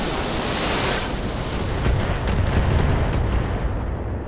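Missiles firing and exploding in the BattleTech video game make a loud, sustained roar of blasts that swells toward the middle and holds steady, with no talking over it.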